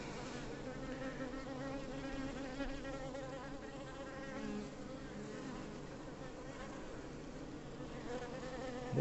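A dense, continuous drone of honey bees swarming close around an open hive, steady and humming without pause, after the colony has driven out its queen.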